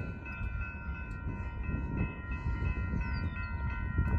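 A Union Pacific freight train rumbles past at a moderate distance, a steady low roar of rolling wagons with faint metallic squeals above, carrying on unbroken with no voices.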